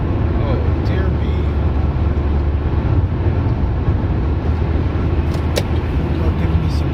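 A car drives along in traffic, its engine and road noise forming a steady, close interior drone with faint brief clicks, while someone speaks over it.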